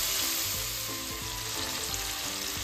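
Crumbled Calabrian sausage fries in a pan, a steady, close, dense sizzle with faint crackles, no voices.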